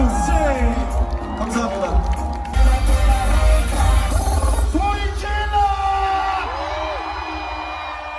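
Concert crowd at a Korean pop/hip-hop show cheering, whooping and clapping loudly and continuously, with a performer's voice speaking over the noise.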